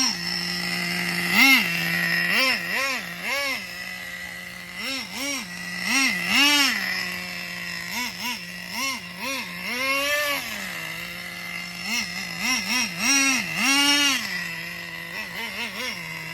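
A small nitro engine in a Traxxas 4Tec model car revs repeatedly in short buzzing bursts, pitch rising and falling through the throttle blips, fairly close and loud.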